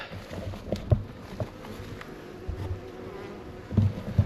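Honey bees buzz in a steady drone close by, with scattered soft knocks and bumps against wooden honey super boxes on a hive.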